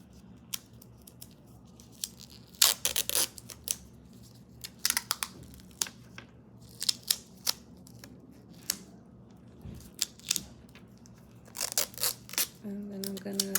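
Adhesive tape pulled off a roll and torn while securing an IV on a patient: sharp ripping bursts in irregular clusters, close by, with quiet handling sounds between them.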